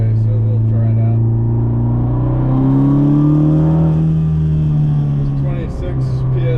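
A 10th-generation Honda Civic Si with an intercooler pulls hard in third gear at 26 PSI of boost, its engine drone rising steadily in pitch inside the cabin, then easing off, with someone talking briefly over it.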